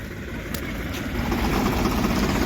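Engines of two tractors drone steadily while pulling a truck stuck in rain-soaked mud, a loud continuous low rumble that swells slightly over a couple of seconds.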